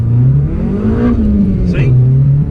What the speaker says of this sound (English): I've got this noise when you are under full acceleration, so I'll show you what I mean. Basically it's when you accelerate hard.